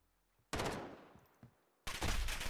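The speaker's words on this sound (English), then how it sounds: "We got the MP7. A little compact SMG looking weapon." An MP7 compact submachine gun fires in Call of Duty: Modern Warfare Gunfight mode: two loud, sharp bursts of rapid automatic gunfire, the first fading into a trailing echo, then a short gap before the second.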